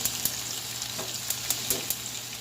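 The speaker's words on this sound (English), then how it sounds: "Our butter sauce, I'm going to warm that up a little bit more." Butter sauce warming in a pan gives a steady close sizzle, with a few soft clicks and scrapes over the frying hiss.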